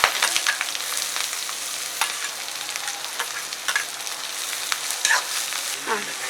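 Small onions and green chillies sizzle steadily in hot oil in a pan, a continuous bright frying hiss with occasional crackles and faint stirring, close and alone with no voices.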